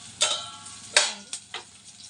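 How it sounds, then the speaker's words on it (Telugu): Peanuts with green chillies fry in oil. Short, close bursts of sizzling hiss come in four uneven spurts with quieter frying between them. "పల్లీలు కూడా వేసుకొని ఫ్రై చేసుకోవాలి."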